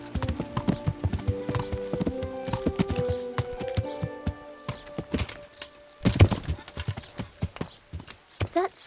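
Horse hooves clip-clopping in the video game Kingdom Come: Deliverance, a close, uneven run of hoofbeats with a brief whinny, and game characters talking over it.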